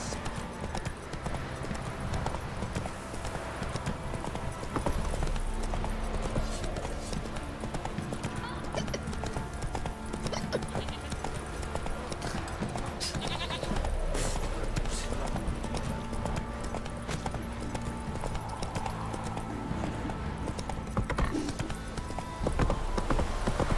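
Horse hooves in the video game The Witcher 3 thud in a steady galloping clip-clop, with an occasional whinny under game music and spoken dialogue throughout.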